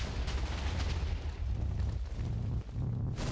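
Chaos Guardian boss from Minecraft FTB OceanBlock firing its attacks, a continuous barrage of deep booming blasts and rumbling explosions that stay loud throughout with no talk.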